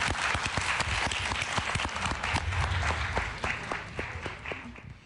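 A theatre audience applauds a guest on stage with sustained, rhythmic clapping, many hands beating in a loose unison pulse that carries on for several seconds.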